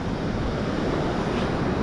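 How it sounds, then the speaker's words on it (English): Storm water rushing and churning after a burst of extremely heavy rain near the coast in Durban, a steady dense roar with broad noisy texture and some wind buffeting, continuous and close throughout. "Have a little look at the water flowing here,"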